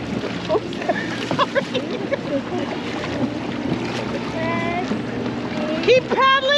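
A canoe paddled on open water with wind rumbling across the microphone, soft splashes and hull noise beneath close, excited voices of children and adults talking.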